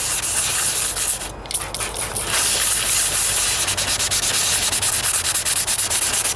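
Steady, continuous abrasive rubbing as a 1998 Toyota Corolla hood is wet sanded by hand, with no talk.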